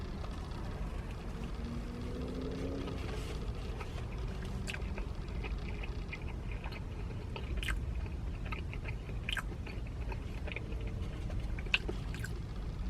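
Bites and chews of a Krispy Kreme Oreo cookie glazed chocolate doughnut with cream filling, soft and close, set against a steady hiss of background noise with no talking.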